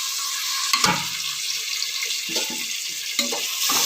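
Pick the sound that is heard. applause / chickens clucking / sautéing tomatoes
sautéing tomatoes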